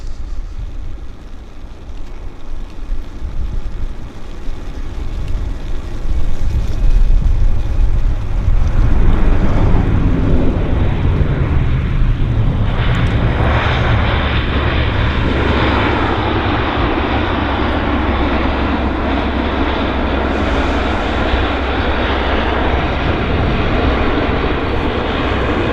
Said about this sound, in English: we got a Q400 now landing